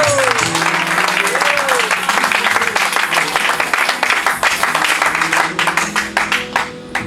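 A church congregation at an evangelical mission service applauds throughout, a dense, steady wash of clapping under a sustained musical tone and voices, loud and continuous.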